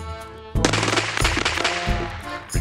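Gunshots in Escape from Tarkov ring out as a few loud, close, sharp reports with ringing tails, firing in a quick irregular sequence.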